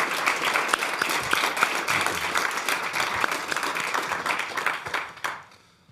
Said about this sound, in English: I think you also heard from the warm applause